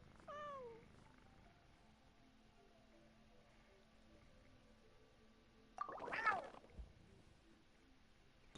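A cat meows in Genshin Impact, heard while exploring Fontaine's Nostoi region: one short, quiet, falling meow at the start, then a louder, noisy burst of sound a few seconds later over soft ambient game music.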